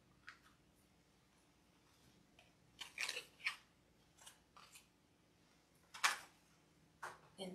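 Scissors snip through evergreen Christmas wreath material, a scattering of sharp, quiet cuts and crisp clicks spread unevenly across the moment, close but faint against a quiet room.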